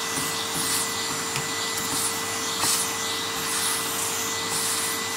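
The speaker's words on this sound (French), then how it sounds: "je le fais à l'aspirateur" A vacuum cleaner held just above the fan of an Acer GX-781 laptop to clear dust, a steady loud whine with a constant pitched hum, the suction briefly rising and catching in small bursts.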